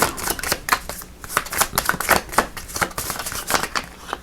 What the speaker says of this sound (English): Let me just give it a little more shuffle there.